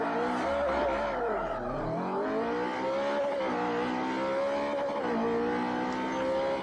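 A Subaru STI race car in Forza Motorsport 4 braking into a corner and accelerating out, its engine note dipping, then climbing through repeated revving rises with gear changes, loud and continuous, with faint talk beneath.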